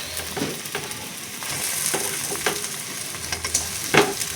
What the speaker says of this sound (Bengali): এখন আমি মাছটা দিয়ে দেবো, সুন্দর করে মশলাটা কষিয়ে নিতে হবে।